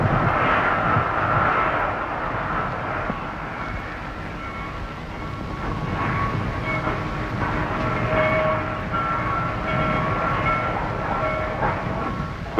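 Railroad cars are cut out of a train bound for Bluefield, giving a continuous rumble of rolling rail cars with faint wheel clatter and squeal. The sound stays steady and moderately loud, with no voices.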